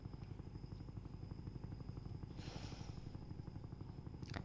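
A helicopter in the Roblox video game, a continuous low rhythmic rotor chop with a steady thin whine above it, with brief faint bursts on top.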